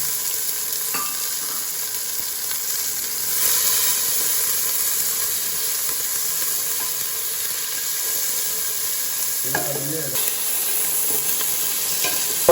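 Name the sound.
onion and tomato frying in pan for crab curry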